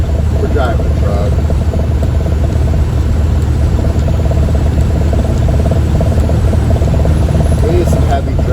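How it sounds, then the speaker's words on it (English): Truck engine droning steadily at a low pitch while driving, a constant rumble throughout with people talking loudly over it. "we're driving a truck"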